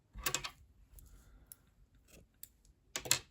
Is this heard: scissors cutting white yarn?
yes